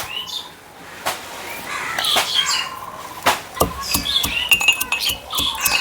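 Roasted spices for Bengali chickpea ghugni being pounded by hand, giving irregular sharp clinking knocks close by, with faint bird chirps in the background.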